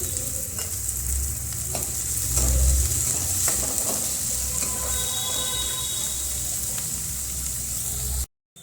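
Crushed ginger and garlic hit frying onions, giving a steady close sizzle with stirring scrapes and a louder low rumble as they go in, then a sudden cut to silence near the end.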